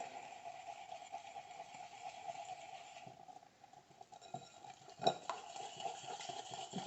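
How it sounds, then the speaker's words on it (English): Egg yolks are whisked in a bowl for donuts with a soft, steady scraping and stirring rhythm, faint and close, with a sharper clink of the whisk against the bowl near the end. "Break up my egg yolks a little bit. Mix that up."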